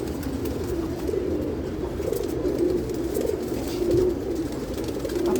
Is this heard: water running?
no